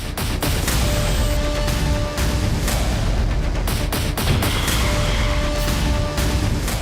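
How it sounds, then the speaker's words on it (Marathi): A gas cylinder explodes in a series of loud, sharp blasts and crashing bangs over a continuous roaring rumble. "रील्स साठी घडवला सिलेंडर स्फोट"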